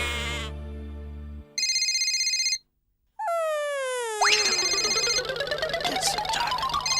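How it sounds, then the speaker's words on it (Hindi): A jumble of electronic tones plays: a low buzz, a high sustained beep, then rising sweeps and a busy warbling melody, like a novelty ringtone. "अय्यर का फोन"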